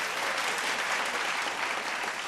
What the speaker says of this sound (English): Round of applause for all our sponsors